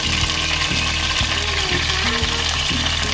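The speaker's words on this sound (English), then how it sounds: "We will drop in the cinnamon stick, clove, the star anise first" A cinnamon stick, clove and star anise sizzle in hot oil in a pan, giving a continuous, even frying hiss with faint periodic stirring or bubbling beneath.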